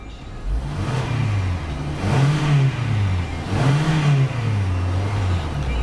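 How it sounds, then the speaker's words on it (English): A 2012 Kia Sorento LX 2WD engine idles steadily and is revved three times in succession, each rise swelling and falling back to a smooth idle, heard up close with no talking. "we have a nice rev and a smooth idle"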